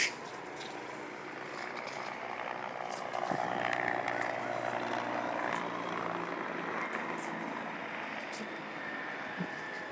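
A departing helicopter drones at a distance over a brush fire in 4S Ranch, a faint steady engine hum beneath outdoor background noise and scattered clicks.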